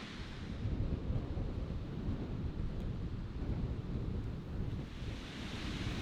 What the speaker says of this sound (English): The wind raged all day, so hard that we could barely sit outside together.